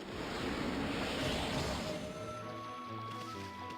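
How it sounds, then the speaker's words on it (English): Rushing water returns in the video game Okami, a broad steady wash of surf-like flow filling the whole stretch, with soft tonal game music notes rising beneath it toward the end. "And yay, the water has returned."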